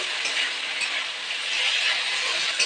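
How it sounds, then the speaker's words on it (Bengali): Spices frying in a pan for a Bengali cauliflower, potato and puti fish curry, giving a loud, close, continuous sizzle with no talking. "ভালো করে মশলাটা ভেজে নিতে হবে"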